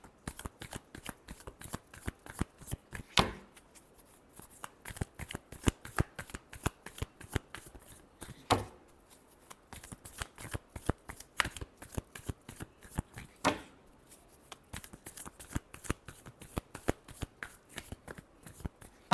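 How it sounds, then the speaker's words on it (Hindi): Tarot cards shuffled by hand in fast, continuous riffling bursts, crisp and close, with brief pauses between rounds. "Last shuffle."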